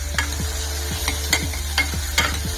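Mango pieces sautéing in a pan for a kara kuzhambu, a constant sizzle with repeated rhythmic spatula scrapes and stirs roughly every half second, close and clear.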